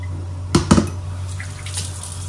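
Rice is rinsed in water in a home kitchen, two quick splashing sloshes near the start followed by lighter dripping and trickling over a steady low hum.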